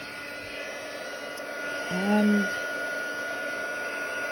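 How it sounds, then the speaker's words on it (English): A heat gun blows hot air over embossing powder on a craft tag, a steady whooshing hiss that runs throughout, with a voice briefly heard over it. "Now I'll need my heat gun"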